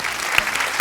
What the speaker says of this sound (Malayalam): ഷോ, ഒരു ക്ലാപ്പ് കൊടുക്കും അൽസാബിത്തിന്